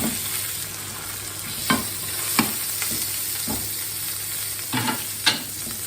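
Burger patty frying in a pan over lowered heat, a loud continuous sizzle with several sharp scrapes and clacks of a utensil against the pan.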